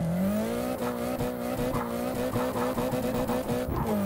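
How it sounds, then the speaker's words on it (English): A Nissan 180SX street car in the racing game Assetto Corsa: a steady, loud engine drone held at high revs throughout, with tire squeal and rhythmic surges over the sustained note. "And the sound of this car."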